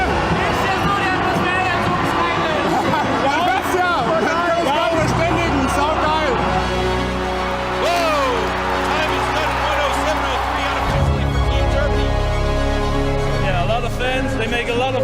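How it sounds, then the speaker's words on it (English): A large crowd at a STIHL Timbersports European competition roars, cheers and whistles continuously and loudly, with an announcer talking over the noise throughout. "And the crowd goes bananas"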